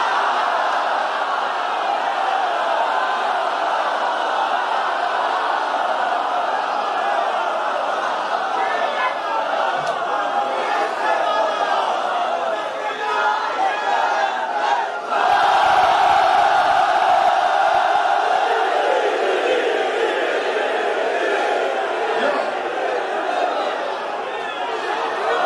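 Large crowd at a Shia religious gathering raising loud Qalandar slogans, a dense, continuous roar of massed voices and shouts holding steady throughout, swelling sharply near the middle.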